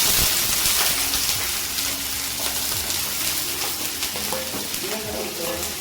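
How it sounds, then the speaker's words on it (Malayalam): Mustard seeds spluttering in hot oil with onions and dried red chillies frying, a loud, dense continuous sizzle and crackle close up, with a voice talking over it. "രണ്ട് വറ്റൽ മുളക് ഇങ്ങനെ പൊട്ടിച്ചു കടുക് പൊട്ടിയിട്ടോ ഫുള്ള് പൊട്ടി ഉള്ളി"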